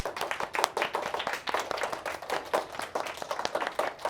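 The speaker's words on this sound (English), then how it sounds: "Give them a round of applause." An elementary class applauding, a brisk, fairly close clatter of individual hand claps with no talking.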